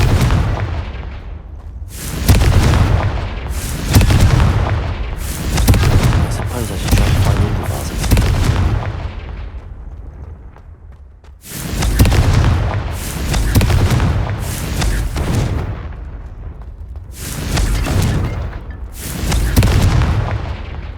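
Confringo fire spells explode in Hogwarts Legacy, a series of loud, booming blasts spaced roughly a second or two apart in two clusters, with a short quieter gap between them.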